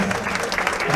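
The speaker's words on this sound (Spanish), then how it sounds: "Que vengan los aplausos entonces," Applause from a gathering at a ribbon cutting for the inauguration of a family house in Aldea Setivá, Sipacapa. The clapping is steady and dense through the whole second, with a voice talking over it.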